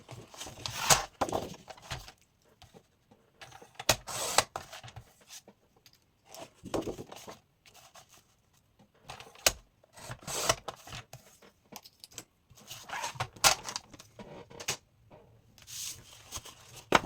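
Strips are cut off a sheet with scissors or a cutter, giving intermittent close snips and rubbing scrapes in short bursts separated by quiet pauses.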